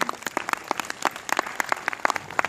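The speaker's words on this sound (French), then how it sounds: "on les applaudit bien fort" A small audience gives a round of applause at a testimonial event, with sparse, separate hand claps rather than a dense roar, moderately close and fairly quiet.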